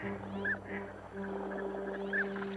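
Spring waterfowl call in a few short honking notes, fairly faint and at a distance, over a low steady background hum.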